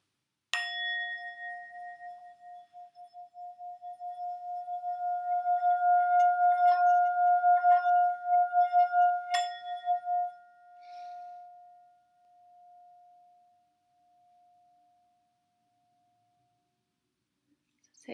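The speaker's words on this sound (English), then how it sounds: "we'll start with the sound of the singing bowl" A singing bowl is struck and then rubbed, giving one clear metallic tone that swells into a sustained, pulsing ring. It peaks, fades gradually over many seconds and ends with a faint final tap, alone in a quiet room.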